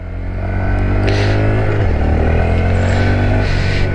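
A Honda Grom motorcycle engine ridden in an empty parking lot, loud and close, revving steadily. The pitch drops sharply as a gear is shifted partway through, then the engine settles into a steady drone.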